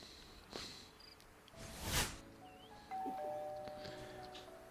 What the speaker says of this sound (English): we also have the ever so wonderful alarm bell of "Hey, you're up."